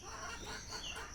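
Farm chickens fed fresh grass alongside their other feed cluck steadily and close by for about a second, a busy overlapping flock chatter with no voices.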